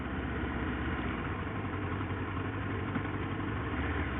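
A motorcycle engine idles steadily at close range, a low, even rumble with no revving or talking, on a country ride of exploration.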